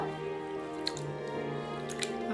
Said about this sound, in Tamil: இப்போ அதை நல்லா ஒரு 4 times கழுவி அலசிக்கலாம்